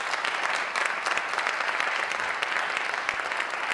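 A crowd applauds Baba Malik at an evening community food event, a steady, even patter of many hands clapping throughout.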